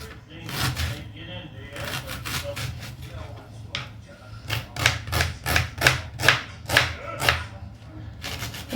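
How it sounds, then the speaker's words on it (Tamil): Onion being cut into small pieces on a board, giving a run of sharp knife taps that speed into a steady, evenly spaced chopping rhythm near the end, with a low hum underneath. "வெங்காயம் வந்து நம்ம குட்டி குட்டியாக கட் பண்ணி எடுத்துக்கலாம்"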